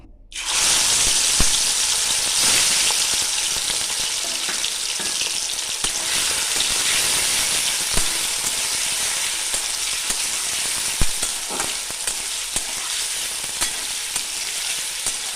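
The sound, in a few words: prawns stir-fried in mustard oil in a wok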